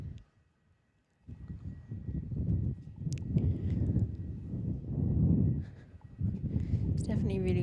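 Strong wind buffets the microphone at Busselton Airport in Australia, a loud, continuous rumbling roar that gusts in waves after a brief quiet start, with no voices.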